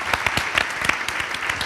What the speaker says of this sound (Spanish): Un aplauso para Andrés.